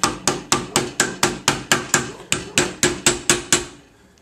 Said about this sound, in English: And we'll throw it on the mandrel and hammer it around.